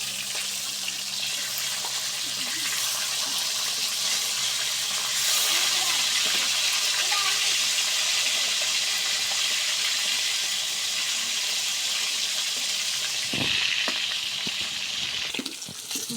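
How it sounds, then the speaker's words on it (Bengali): Fish sizzles steadily in hot oil, a dense, even crackle and hiss that runs unbroken from start to finish, with a few faint clinks near the end. "মাছটা ভাজা আমাদের হয়ে গেছে"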